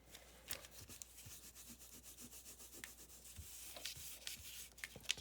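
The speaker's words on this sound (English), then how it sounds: "Let me get out my cloth. Wipe your pretty little face off." A cloth wipes a surface in quick, soft rubbing strokes, a faint, close, rhythmic scratchy swish repeating steadily throughout.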